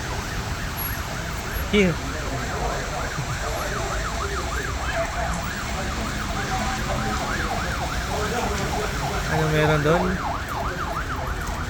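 A police siren wails in a rising and falling cycle while the car passes through a rainy street in Dammam, Saudi Arabia, with steady rain and traffic noise beneath and people briefly talking nearby.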